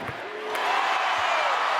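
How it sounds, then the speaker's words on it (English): An NBA arena crowd rises and roars for Carmelo Anthony during a 50-point game, a loud, continuous, swelling wash of cheering in a large indoor venue, with a couple of faint thumps in the background. "Crowd on their feet chanting MVP to Melo"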